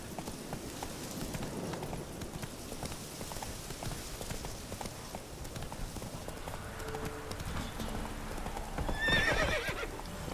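Roach, the horse in The Witcher 3, clip-clops along at a gallop with a whinny near the end, the hoofbeats steady under faint game ambience.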